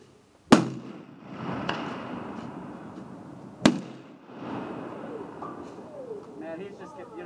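A Sig 556 rifle fires outdoors: two sharp, loud cracks a few seconds apart, each followed by a brief echoing tail, with people talking in between.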